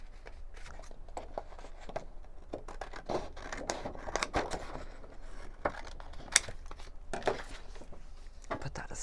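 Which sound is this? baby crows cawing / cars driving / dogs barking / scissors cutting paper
scissors cutting paper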